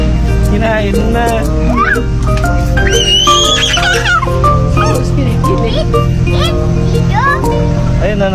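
A horse at a zoo whinnies amid loud continuous background noise, with children's voices and chatter around it.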